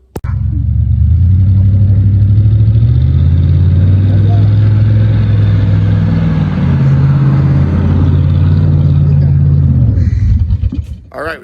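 A 1987 Ford Thunderbird engine running rough on a test drive after a tune-up, a loud, close, rumbling drone that climbs and falls with throttle, with a voice speaking underneath.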